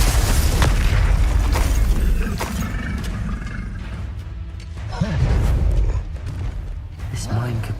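Spell blasts from Hogwarts Legacy gameplay, cast as Incendio, Confringo and Bombarda: loud booming explosions and crackling bursts, heaviest at the start and again midway, mixed with spoken voice and game effects.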